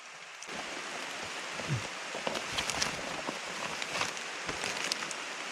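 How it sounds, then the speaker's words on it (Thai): Rain patters steadily on leaves and surfaces in deep forest, a dense soft hiss scattered with occasional louder drops, fairly close and constant, with no voices. "ตอนนี้ฝนตกมาอีกแล้ว"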